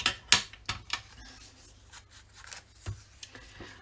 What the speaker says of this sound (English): I prefer to use a pair of scissors